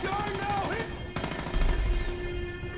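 Rapid automatic bursts of light machine gun fire in Far Cry 5, a dense rattling stream of shots at close range that pauses briefly before continuing.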